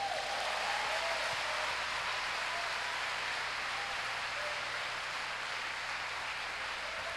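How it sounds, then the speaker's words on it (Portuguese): A church congregation applauds in a long, even wash of clapping that sounds somewhat distant and soft, steady throughout without pause. "Você pode aplaudir ao Senhor por isso?"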